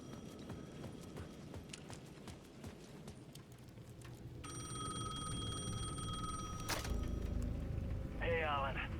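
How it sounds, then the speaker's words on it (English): A payphone rings at the edge of a plaza in the video game Alan Wake II, a steady bell-like trill rising out of busy background noise midway through, with a voice and shuffling sounds around it. "The payphone at the edge of the plaza was ringing again."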